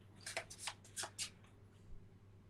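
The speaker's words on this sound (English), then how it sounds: "I'll have a person, I'll mix the cards," A deck of playing cards is Hindu shuffled in quick soft bursts, about five riffling swishes in a row, faint and close with no voices.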